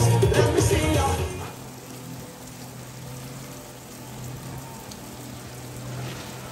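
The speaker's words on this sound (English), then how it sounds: "It's raining really hard." Heavy rain pours at Ti Kaye Resort in St. Lucia, a steady, dense hiss that continues evenly after a louder, busier opening second, with no voices.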